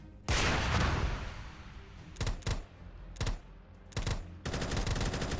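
A gun fires in the Minecraft video game, rapid bursts of loud automatic shots, one long volley followed by several short sharp bursts with brief pauses.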